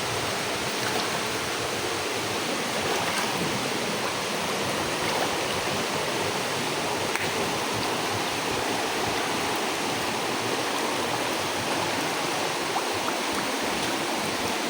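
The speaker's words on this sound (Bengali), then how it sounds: "পাথর ফাইটে ফেটে পানি পড়তেছে ভাই" Water gushes steadily out of cracks in a thick rock layer, making a continuous loud, hissing rush like a small waterfall, with no voices.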